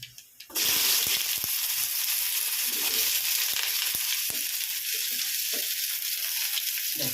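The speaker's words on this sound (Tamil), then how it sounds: "இந்த இப்போ வெங்காயம் போட்டுடலாம் பொறிக்கிட்டோம் வெங்காயம் போடுறேன்" Onions dropped into hot oil already crackling with mustard seeds and lentils for a garlic kuzhambu, giving a loud, steady sizzle and frying hiss after a brief quiet start, with a few clinks of a utensil.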